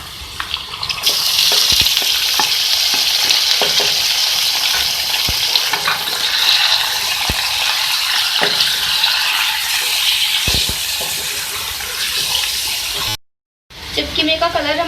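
Minced beef frying with golden onions in a karahi, a loud continuous hiss and sizzle broken by frequent spoon clicks and scrapes, with a voice talking over it.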